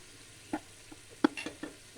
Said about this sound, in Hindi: हम इसको अच्छे तरीके से फ्राई कर लेंगे।